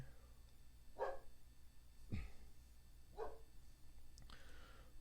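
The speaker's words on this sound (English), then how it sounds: "Loud doggy." A dog barks three separate times at a moderate distance with gaps between them, over low background hiss and a thump.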